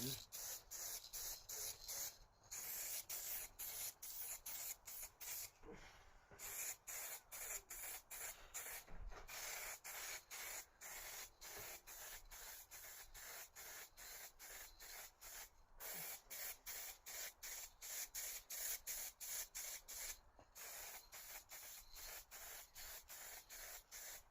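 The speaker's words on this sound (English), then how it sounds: "So I'm about to spray the final coat." A paint spray gun hisses in long continuous bursts with brief pauses while laying the final coat on a loudspeaker's casework, a steady close airy rush.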